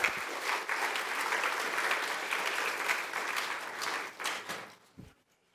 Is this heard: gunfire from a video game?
no